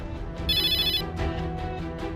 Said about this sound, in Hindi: ये किसका फोन बज गया?